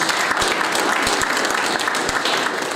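Crowd applause fills a hall during a sports gala in Puck commune, Poland, with steady, full clapping from many hands and a few crisp individual claps close by throughout.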